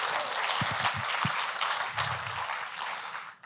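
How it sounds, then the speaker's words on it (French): A church audience in Magog applauds its technical team, a broad wash of clapping that fills the clip steadily, with a few low thumps and a brief murmur partway through. "Est-ce qu'on peut applaudir toute l'équipe technique qui veille?"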